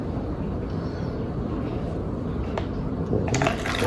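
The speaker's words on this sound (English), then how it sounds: "Pour the soda in the cup." Diet soda pours steadily into a cup for a kindergarten floating-raisins experiment, a continuous fizzing, splashing rush close by with no talking.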